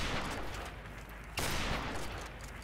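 Dense, continuous gunfire rattles in Call of Duty: Modern Warfare Remastered, with a fresh burst of shots cutting in halfway through the sustained barrage.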